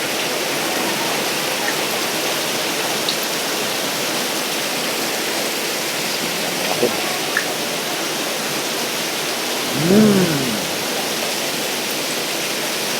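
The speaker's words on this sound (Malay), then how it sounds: "Hujan lebat guys, hujan lebat." Heavy tropical rain pours down outside a roadside eatery in Langkawi, a loud, dense, constant hiss throughout, with a brief faint voice-like tone near the end.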